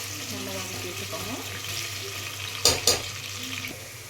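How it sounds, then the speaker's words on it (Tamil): Onions with cardamom sauté in a pan toward browning: a dense, steady sizzle with stirring scrapes and two brief loud clatters of the utensil against the pan. "இப்போ ஆனியன் போட்ட பின்னாடி நல்லா கொஞ்சம் ப்ரௌன் ஆகணும், நல்லா வதக்கி வச்சுக்கோங்க"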